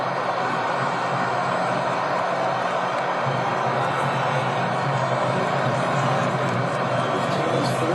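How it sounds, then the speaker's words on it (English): A large stadium crowd cheers during a US soccer free kick against Belgium, a dense sustained roar that swells slightly after a few seconds while a commentator talks over it. "Listen to the crowd come to life here"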